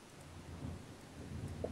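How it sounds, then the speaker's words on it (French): A thunderstorm outside, with a continuous low rumble of thunder and rain that stays fairly faint and steady, heard from a distance. "je crois qu'il y a un putain d'orage dehors"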